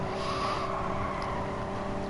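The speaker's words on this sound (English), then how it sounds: "He revved all the way up to the hill in 4th gear." A race car engine revving hard in the GT Sport racing game, a steady loud drone with no talk over it.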